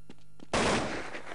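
A gunshot from a headshot in a Counter-Strike-style competitive esports match, with a sudden loud broadband blast that cuts in after quiet and then rings out.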